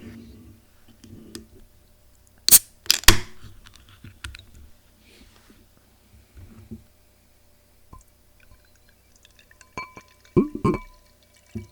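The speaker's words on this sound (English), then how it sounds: "Let's crack it open and let's take a drink." A can of Golden Nugs West Coast IPA cracks open with a sharp hiss and snap, followed by scattered quiet clicks and a brief pour into a glass near the end, close and otherwise quiet.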